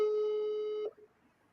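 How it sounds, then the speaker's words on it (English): A telephone ringback tone plays during an outgoing call as one steady, clear electronic tone lasting under a second before it cuts off into quiet line noise. "It's ringing once, ringing twice."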